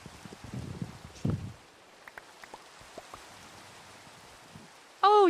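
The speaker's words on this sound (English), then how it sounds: "the rain's clearing up" Steady rain in a video game, a soft continuous patter with scattered drop taps, with no voices, ending in a brief bright tone.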